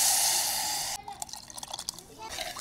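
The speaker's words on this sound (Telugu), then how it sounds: "ఈ రసం కూడా వేసేద్దాం." Squeezed raw mango juice is poured into a pot of sautéed onions and tempering for mango rasam, giving a steady splashing pour followed by scattered drips and dribbles.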